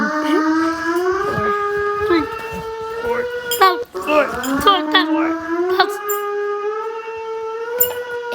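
A Russian civil defense emergency siren wails in rising and falling howls with sliding pitch, while people talk and react over it throughout.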